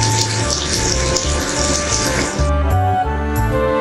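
Watering a planted seed in the video game Food Quest gives a loud, continuous splashing pour of water, layered over steady electronic game music with a sustained low tone.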